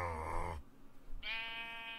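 Two synthetic sheep bleats in Minecraft, one deep and low, then after a short pause a higher, thinner bleat that holds steady, both close and clear with no talk.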